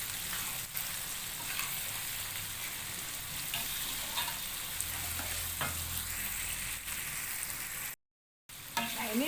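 Tomatoes fry in a pan for Indonesian baby squid sambal, a steady close sizzle with brief scraping stirs throughout and a short silent gap near the end.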